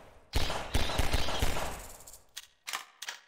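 Pistol fire in the video game Half-Life 2, heard as a quick burst of several close, loud shots followed by three more spaced single shots, with no talking.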